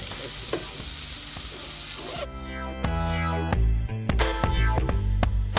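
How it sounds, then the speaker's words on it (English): Vegetables sizzle in andouille sausage grease in a skillet, first as a steady, bright hiss, then louder and busier with clattering and stirring knocks. "let's add the veggies into our grease and start cooking that"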